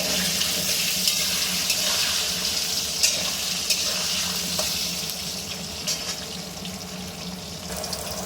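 Taro and potato pieces fry in leftover fish oil, giving a loud, steady hissing sizzle close by, with a few small crackles and clicks over the constant bubbling.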